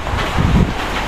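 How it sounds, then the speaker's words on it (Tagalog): Strong typhoon wind roars and buffets against the microphone behind a house, a loud continuous rush that surges briefly in the middle. "Sobrang lakas ng hangin."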